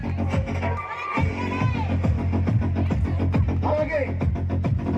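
An audience at an Adivasi trust meeting claps steadily throughout, with crowd noise and a voice speaking over the continuous applause.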